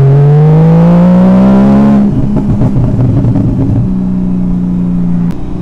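A Porsche 981 Cayman S with a Fabspeed race catback exhaust accelerates hard in sport mode. A loud, rising engine note climbs steadily, then breaks into a rough, crackling burble before settling into a steady drone.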